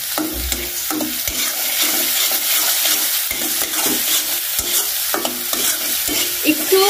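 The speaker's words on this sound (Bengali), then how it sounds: "মশলাটা ভাজা ভাজা হবে" Spices and Malabar spinach frying in a pan, a steady close sizzle broken by repeated scraping stirs and soft clinks of a utensil against the pan, with no talking.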